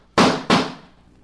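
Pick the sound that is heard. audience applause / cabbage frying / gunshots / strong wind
gunshots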